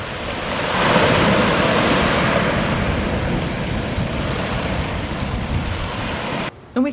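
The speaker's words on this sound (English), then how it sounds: "watch the ocean lap up against the shore" Ocean waves wash continuously against the shore at a peaceful coastal spot in New Zealand, a loud, dense roar of surf mixed with wind buffeting the microphone, cutting off abruptly near the end.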